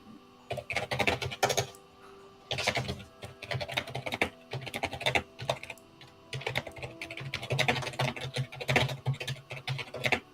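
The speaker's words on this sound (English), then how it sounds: "Sorry, I do the fast typing. Apparently, I type really hard." Fast, hard typing on a computer keyboard: rapid clattering bursts of keystrokes separated by brief pauses, loud and close, with no talking.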